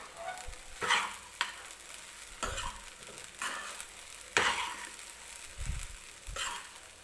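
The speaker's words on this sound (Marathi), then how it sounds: "सारखी अशी आपल्याला मध्ये मध्ये ही खिचडी हलवत राहायची आहे." A spoon stirs sabudana khichdi in a pan, giving repeated soft scraping sweeps every second or so over a faint, steady sizzle, close by and quiet.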